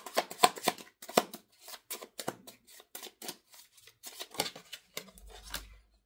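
Tarot cards riffled and shuffled by hand in a series of crisp, papery bursts, fairly close and moderately loud, with short pauses between runs and a brief low thump near the end.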